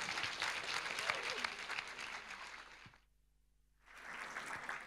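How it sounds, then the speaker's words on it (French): Audience applauding at a live stage show, dense clapping from a crowd that breaks off for about a second before resuming strongly. "applaudissez bien fort Anatolie Piton"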